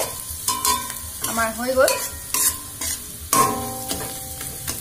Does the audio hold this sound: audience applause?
no